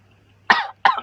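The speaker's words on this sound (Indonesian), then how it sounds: "Aduh batuk" Two sharp coughs from a man, close and loud, separated by a brief pause over a faint low hum.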